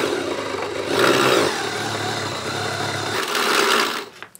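A motorised mechanism inside an Iron Man Hulkbuster cosplay helmet turns with a steady mechanical whir and an occasional rattle, rising in loudness twice before stopping.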